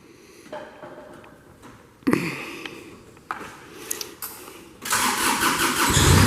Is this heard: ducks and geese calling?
no